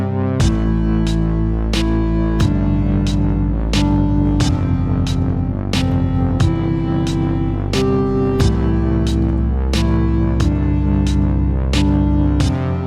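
Indie video game music in which a higher-pitched lead echoes the chord rhythm above a throbbing bass and steady percussive ticks, dense and loud throughout without any talking.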